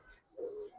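A pigeon, a Gribaz military khaki bagha breed, gives a single soft low coo lasting under half a second, close by and quiet, with no talk over it.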